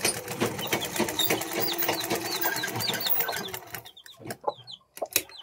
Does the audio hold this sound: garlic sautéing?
no